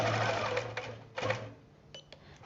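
Sewing machine doing free-motion quilting, close and fairly quiet, with a fast steady stitching chatter for about a second and a half, then a softer, broken patter of a few stitches.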